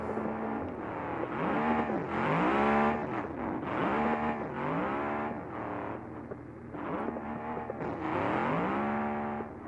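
A race car at Daytona in a stock car racing video game does a burnout, engine revving in repeated rising and falling surges with squealing tires, loud and close, no talking.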